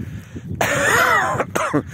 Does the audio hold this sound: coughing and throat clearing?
yes